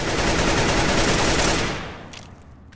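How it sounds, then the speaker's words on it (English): Sustained rapid automatic gunfire in CS:GO, loud and close, rattling without pause before cutting off and leaving a few faint trailing clicks. "can you hear other people's low ammo sound?"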